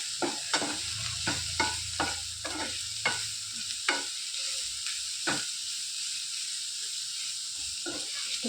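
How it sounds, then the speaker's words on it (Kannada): Curry leaves and chillies fry in an oiled pan with a steady hissing sizzle, broken by regular scraping strokes of a spatula stirring them, close and moderately loud with no voices. "ಕರಿಬೇವಿನ ಸೊಪ್ಪು ನೋಡಿ, ಇಷ್ಟು ಫ್ರೈ ಆದರೆ ಸಾಕು."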